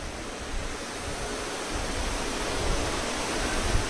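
Very heavy rain pouring down outdoors near a religious gathering in Gurugram, Haryana, a dense, continuous hiss that stays loud and even, growing slightly stronger toward the end.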